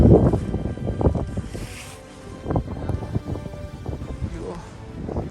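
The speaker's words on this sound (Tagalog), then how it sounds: "Yun, yung lakas na hangin." Strong wind roars and buffets the microphone in gusts on open moorland at Burley, with someone talking over the blustery noise.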